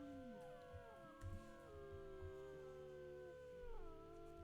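A wolf howls in WolfQuest Anniversary Edition, long sustained wavering tones sliding in pitch, layered with a second overlapping howl, over a quiet game ambience with soft thumps.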